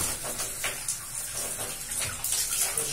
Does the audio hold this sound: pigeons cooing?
no